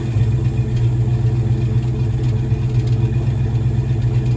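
A Ford Mustang with newly swapped Mac Pro Chamber exhaust and a slight engine misfire idles steadily, a loud, close, continuous low rumble with a slight uneven lope at low RPM.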